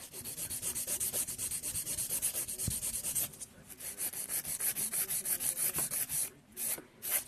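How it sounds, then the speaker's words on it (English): A nail file rasps back and forth on a sculpted acrylic nail, shaping it into an almond form, in steady rhythmic close strokes with a brief pause midway, then quicker short strokes. "when I'm filing Almond, what I like to do is just do the perimeter first"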